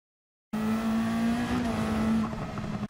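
A pink race car in a racing video game drives past with a steady, loud engine drone, holding one sustained tone close and continuous, then cutting off abruptly.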